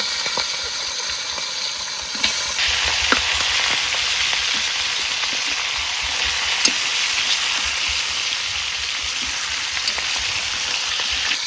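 Katla fish head, a large 6 kg fish, frying in mustard oil while being turned and broken apart in the pan: a continuous dense sizzle that grows brighter after a couple of seconds, with scattered spatters and utensil clicks.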